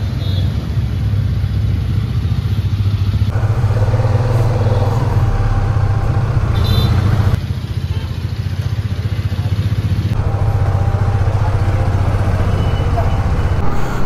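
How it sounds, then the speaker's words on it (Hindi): A Hero Karizma XMR 4th-generation motorcycle rides out of a showroom, its engine a loud, steady close-up drone with wind rumble, and a rider talking over it throughout. "so I am riding hero Karishma XMR gen 4"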